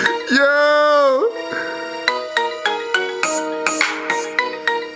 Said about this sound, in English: Apparently it's just guys that just make marimba fucking ringtones.